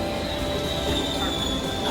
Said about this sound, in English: The train's arriving.